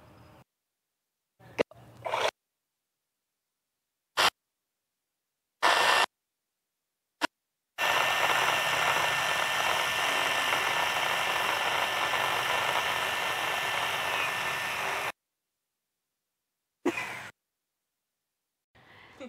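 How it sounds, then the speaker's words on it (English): Two small TMini and T1V2 tug robots run side by side in a race, giving a steady whirring motor drone for about seven seconds, framed by brief clicks and bursts before and after, with no talk. "We're going to have a tug race."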